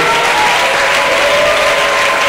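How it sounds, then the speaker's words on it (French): A church congregation claps and cheers for the Lord, with dense, steady applause filling the room without a break for a couple of seconds. "Est-ce qu'on peut acclamer encore le Seigneur?"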